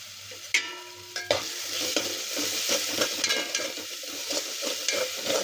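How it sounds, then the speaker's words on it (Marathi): A ginger, garlic, coconut and coriander paste sizzles in hot oil while a utensil stirs it, producing a steady frying hiss punctuated by scraping clinks against the pan, close and fairly quiet with no talking. "चांगलं परतून घ्यायचं।"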